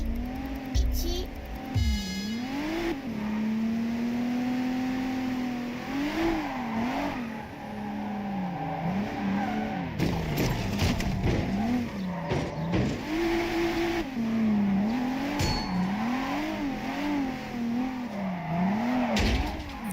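Racing video game street drift race against a rival, with engine revving rising and falling in pitch continuously, steady and close, as a voice talks over the engine throughout.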